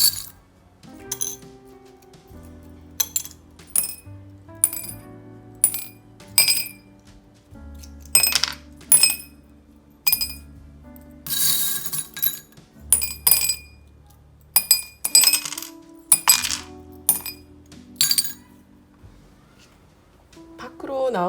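Small tarot charms cast onto a surface, with repeated sharp glassy and metallic clinks in irregular bursts, close and crisp, while a voice talks softly between them.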